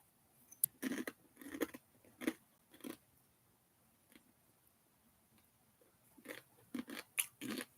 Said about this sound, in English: I just eat the noodles like little chips, crunchy, satisfying chips